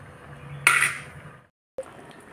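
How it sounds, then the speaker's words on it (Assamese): Boiling chickpea lentils being stirred in a pot with a metal spoon, with a bright clatter of metal on the pot, a brief pause, then a single clink, close and alone. "এতিয়া এইখিনি নোহোৱালৈকে মই মাজে মাজে লৰাই থাকিম, নহ'লে তলত লাগি ধৰিব পাৰে"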